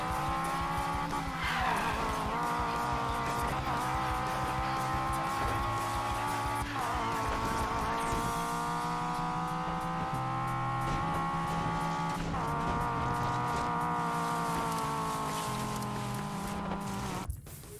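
Car driving fast on a road in Need for Speed Payback, with a loud, continuous engine roar that rises through the gears and drops at each shift, plus brief tire squeals.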